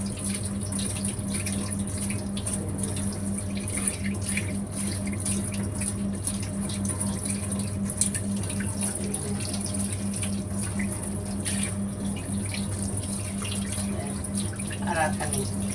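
Tap water runs steadily into a sink while cut jackfruit is washed to rinse off its sticky white sap, a continuous close splash and trickle throughout with faint background hum.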